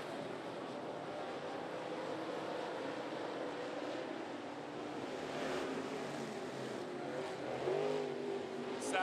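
Limited late model race cars lap 411 Motor Speedway as a distant, steady engine drone, fairly faint, with a passing car's tone rising and falling near the end.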